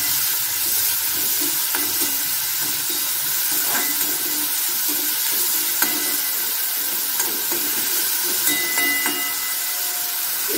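Onions with curry leaves and rock salt sauté in a pan, giving a loud, close, steady sizzle and hiss with occasional soft stirring scrapes and no talking.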